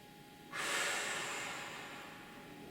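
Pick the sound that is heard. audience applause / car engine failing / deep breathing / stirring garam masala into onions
deep breathing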